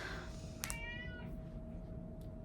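A house cat gives a single clear meow, close and rising then falling, over a steady low hum in a room; no talk.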